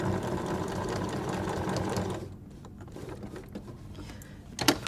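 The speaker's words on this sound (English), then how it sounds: "you are now sewing through almost 4 layers of cotton and 2 layers of toweling" A sewing machine stitches quilt binding through about four layers of cotton and two of toweling, running in a fast steady mechanical whir for two seconds, then stopping and leaving quiet clicks and handling noises.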